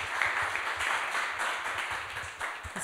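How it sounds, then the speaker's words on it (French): A small conference audience claps for a speaker after a talk, with moderate, continuous applause at a steady level for a few seconds. "on peut l'applaudir bien fort avant de passer aux questions"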